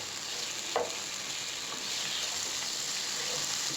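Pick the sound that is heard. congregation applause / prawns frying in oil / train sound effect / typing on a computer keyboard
prawns frying in oil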